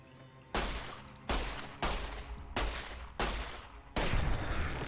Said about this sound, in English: you just kind of gotta open fire in the general direction of your enemy and pray that one of your bullets hits the mark